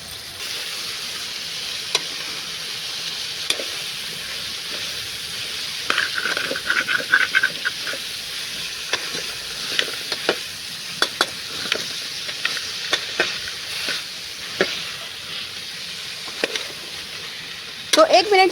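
Val papdi beans are stirred into frying masala in a pan for a curd-based tikhari dish. A steady, hissing sizzle runs under repeated close spatula scrapes and clicks that grow busier midway, with no one talking.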